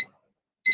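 A kitchen timer being set gives two short electronic beeps, one at the start and a louder one near the end, with silence between them.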